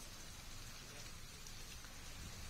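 Steady, dense rain pours down during a strong windstorm in Bagaha, Bihar, tied to Cyclone Remal. The hiss is even and continuous, with no voices.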